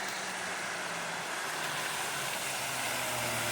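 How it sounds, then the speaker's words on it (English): Truck passing on a road near Skeoch Roundabout in Stirling, a steady broadband engine and tyre rumble that swells slightly toward the end, with no talk over it. "It's a truck!"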